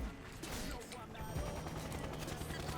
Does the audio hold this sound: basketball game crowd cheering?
no